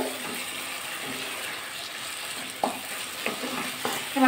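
Potatoes tossed in spice masala and stir-fried, a continuous sizzle with a spatula scraping through the pan and a few louder clanks toward the end.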